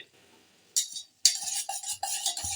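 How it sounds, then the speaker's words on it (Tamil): Milk stirred in a pan while making paal kadumbu, with close spoon scraping and clinks against the metal in short bursts after a brief quiet start. "நம்ம கிண்டிகிட்டே இருக்கணும் அப்படியே மிக்ஸ் கைவிடாமல் இதையும் மிக்ஸ் பண்ணணும்"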